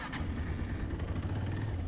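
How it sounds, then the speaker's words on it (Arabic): A motorcycle engine being checked, idling close by with a steady low throb and slight swells in revs, with no talking over it. "تبدا بقى تسمع صوت الموتور بتاعك"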